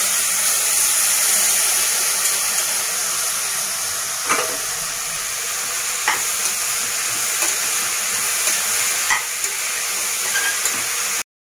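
Steady broadband sizzle of half-boiled vegetable pieces frying in tempering oil, continuous and close, with a few faint clicks of stirring scattered through.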